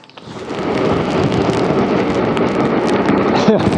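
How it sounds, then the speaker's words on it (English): Heavy rain pours outdoors on a London street, a dense steady roar that holds loud and continuous throughout after a quick swell at the start. "It is teeming with rain."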